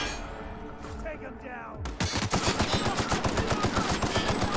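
Rapid gunfire from weapons landing headshots in a fight in The Outer Worlds, opening after a brief lull and hammering in a steady, loud automatic rhythm for several seconds, with a voice briefly heard before the shooting.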